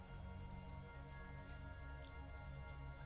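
Rain falling in the puzzle video game The Gardens Between, a steady faint patter of drops over a continuous soft wash with no voices.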